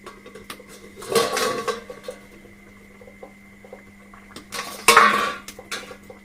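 A metal lid is lifted off a covered pot of steamed eggs, giving two bursts of clattering metal scrapes and knocks a few seconds apart over a faint steady hum, with no talking.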